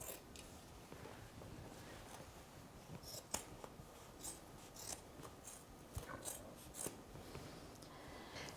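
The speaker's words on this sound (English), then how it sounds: "this is the excess material we're actually cutting right around the whole sleeve" Scissors snip through excess Pendleton coat fabric around a sleeve, giving a quiet, close series of irregular cutting crunches and clicks.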